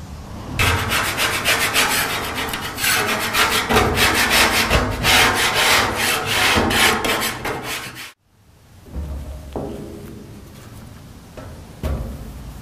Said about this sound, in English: let's see if that'll scrape off with the putty knife